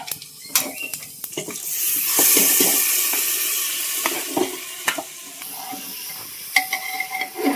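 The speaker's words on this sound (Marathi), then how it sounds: "तेला परतून थोडासा घेणार आहे आणि नमक घालणार आहे" Cumin seeds and green chillies sautéing in hot oil for jeera rice, a steady sizzle with clinks of a stirring spoon against the pot scattered throughout, close and moderately loud, no voices.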